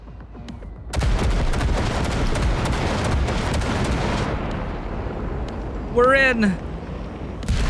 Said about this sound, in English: there's a monster gate that needs to be blown open